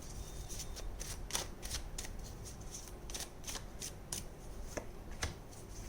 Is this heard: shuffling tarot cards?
yes